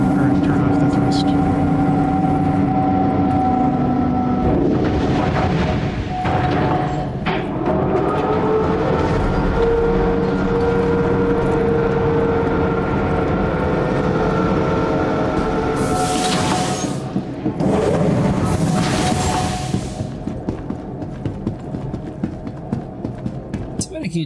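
A Redeemer spaceship in the video game Star Citizen drops with its thrust at the lowest setting. It gives a deep, throbbing hum with shifting tonal whines and a few loud whooshing bursts, under steady talk.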